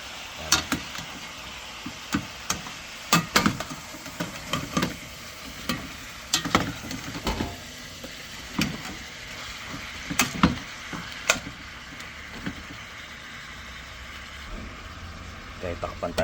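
Food stirred in a frying pan, with irregular scraping and clattering strokes over a steady low sizzle; a voice is heard in places.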